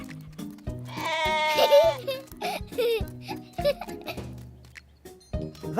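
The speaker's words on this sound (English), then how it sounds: "That's 2 of my sheep." Sheep bleat repeatedly in a cartoon farm scene, wavering calls close by and fairly loud, mixed with background music and brief speech.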